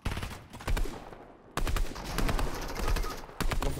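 Gunfire in the video game Fortnite, with rapid, loud bursts of shots cracking in quick succession, then a brief lull and more volleys, sharp and close.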